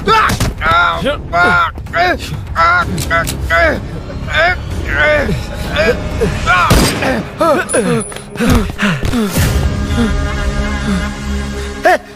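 Gunfire in a Hindi-dubbed action movie scene: sharp bursts and thuds of shots scattered among dramatic music, shouting and other voices.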